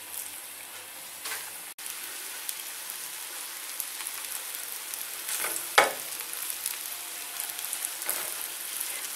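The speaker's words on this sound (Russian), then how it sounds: "Теперь, стряхивая лишнюю муку, выкладываю их на сковородку." Steady crackling sizzle of floured cottage cheese and potato pancakes (syrniki) frying in an oiled pan, close and continuous, with a few brief louder spatters.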